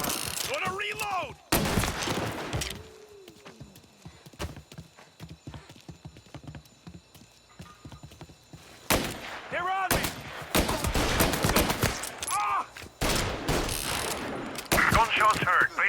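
Gunfire in the video game Mafia Definitive Edition, with bursts of shots and sharp reports coming in clusters alongside galloping hoofbeats and shouting voices, loud and close.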